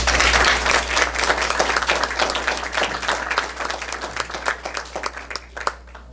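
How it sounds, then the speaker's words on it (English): A meeting audience at a rivers coalition gathering applauds contributors, producing steady, fairly dense clapping throughout with a low constant hum underneath, slightly tapering toward the end. "let's give them a round of applause and thank them"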